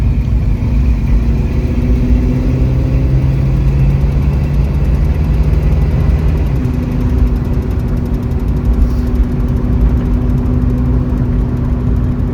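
A 1965 Mustang Fastback with a 302 V8 and automatic transmission, fitted with running gear from a 1969 Mustang, runs loud and close, a steady engine drone with a slight shift in pitch partway through.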